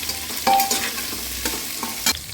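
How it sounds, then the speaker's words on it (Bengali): Vegetables for khichuri fry and get stirred in a pan, a steady close sizzle broken by a few sharp scraping clatters of the spoon against the pan. "দেখো সবজিগুলো হালকা ভাজা হয়ে গেছে"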